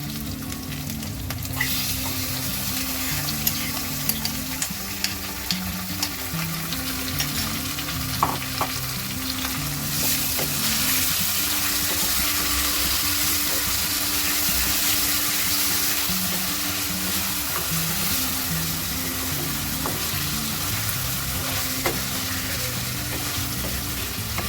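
Mutton liver with masala paste fries in a pan, giving a loud, steady sizzle with frequent stirring scrapes and clinks. The sound carries on throughout and no one speaks over it.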